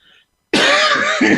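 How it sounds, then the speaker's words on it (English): A single loud, harsh cough bursts out after a moment of near silence, followed by a second shorter cough close to the mic. "Got a cough here. Got a tickle."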